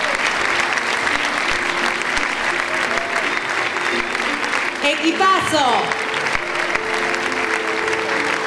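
At the closing ceremony of the 29th Mar del Plata International Film Festival, the audience applauds in a dense, sustained crowd clapping that fills the whole stretch, while a voice briefly speaks over it.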